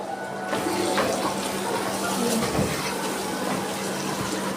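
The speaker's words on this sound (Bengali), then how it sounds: "মশলার বাটি দেওয়া জলটা দিচ্ছি" Water from the spice bowl tipped into a pot of frying spice paste with ginger and garlic for chicken kosha, heard as a close, steady, watery sizzling pour.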